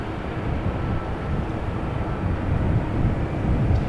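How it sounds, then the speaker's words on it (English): An airplane landing at Amsterdam Schiphol Airport gives a continuous, fairly loud low roar of jet engine noise, broad and steady with no voices. "Hopefully it'll catch a bit more of the airplane's landing."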